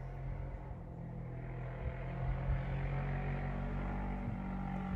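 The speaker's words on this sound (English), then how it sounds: "Someone's riding their dirt bike up the hill right now." A distant dirt bike climbs a hill, its engine a continuous low drone that rises slightly in the second half and is heard alone, with no talking.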